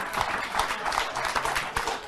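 A television studio audience claps in a short burst of dense applause at moderate volume, steady across the brief moment.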